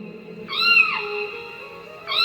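A cat meows twice, a long drawn-out wail followed by the start of another, clear and close with no talking.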